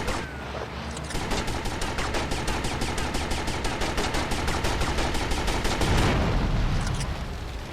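Sustained automatic gunfire in GTA Vice City, a rapid, evenly spaced burst of shots lasting several seconds, loud and close, with a short lead-in and a trailing crack at the end.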